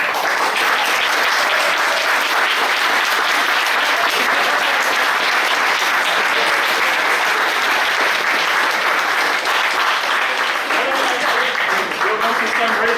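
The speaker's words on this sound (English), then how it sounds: "Let's give a round of applause for" A live event audience applauds a speaker with sustained, dense clapping that fills the room at an even loudness throughout.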